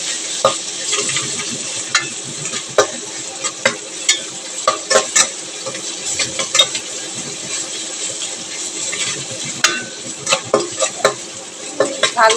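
Ginger and garlic frying in oil in a pan for a shol fish curry, a steady soft sizzle with frequent sharp clicks and scrapes of a spatula stirring, no talking.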